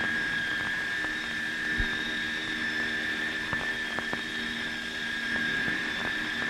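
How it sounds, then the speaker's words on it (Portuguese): Aircraft engines run at full power as a plane accelerates for takeoff, a steady, loud, unbroken roar with a sustained whine on top and only a few faint clicks. "Agora os motores são acionados à sua máxima potência."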